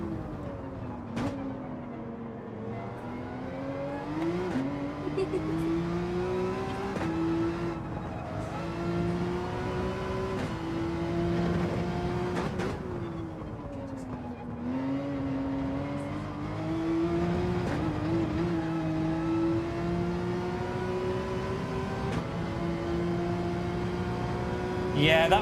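A Porsche race car in Gran Turismo 7 revving steadily through gear changes, its engine tone rising and dropping in long sweeps, with voices talking over it throughout.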